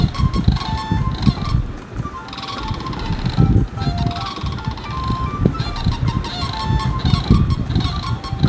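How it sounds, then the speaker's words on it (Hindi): Loud, honking calls of a sarus crane repeat in bursts across the whole stretch, with a few overlapping cries and no talk. "आइए जानते हैं क्रेन की साउंड।"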